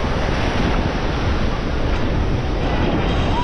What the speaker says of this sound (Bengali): সামনে থেকে আসছে খুব বড় বড় এক একটা ঢেউ।